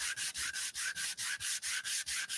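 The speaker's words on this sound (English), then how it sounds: "So I'm just going to go ahead and start sanding." Steady back-and-forth sanding on a wooden mini guitar body, about five rasping strokes per second, close and even, with no voices.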